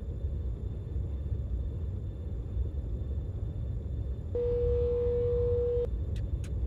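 Train warning horn in Train Simulator 2021 on a Chinese high-speed railway, a single steady tone held about a second and a half over a low rumbling cab drone, with no talk.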